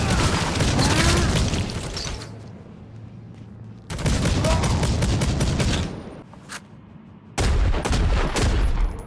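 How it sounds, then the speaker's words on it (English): Heavy Bolter fire in the shooter game Necromunda: Hired Gun, loud sustained bursts of rapid booming shots broken by short pauses, with mechanical clatter between the volleys. "the Heavy Bolter doesn't disappoint."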